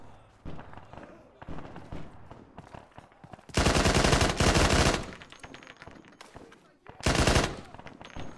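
Machine gun fire in an Arma 3 battle at Kavala, two loud sustained bursts, the first longer and the second shorter, over scattered distant shots and a voice speaking between them.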